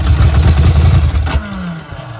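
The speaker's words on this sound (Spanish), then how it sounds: "Voy a arrancar la moto." A Ducati Monster 900 motorcycle engine with MIVV exhausts catches and sputters into life with a rough, clattering rumble, then settles down quickly as it starts.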